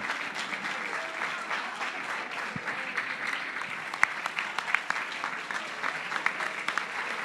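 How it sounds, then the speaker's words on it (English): Steady applause from a crowd at a political party general assembly, a dense wash of clapping with a few sharper claps standing out, continuous throughout. "Give them a big applause."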